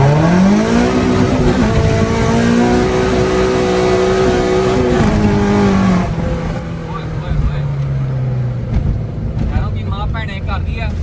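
A modified car with a swapped K24 engine accelerates hard from first gear through the gears, loud and close, its rising engine pitch climbing, dropping at each shift and climbing again before easing off, with voices talking over it.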